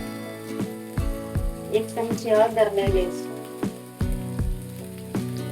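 Spiny gourd (kankoda) frying in oil in a pan while being stirred by hand, with a steady close sizzle and sharp scraping clicks from the spoon, heard under a person's talking.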